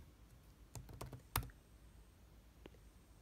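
Keys tapped on a computer keyboard, a brief cluster of quick clicks with one sharper stroke, then a lone tap after a pause; quiet and close, with no voices.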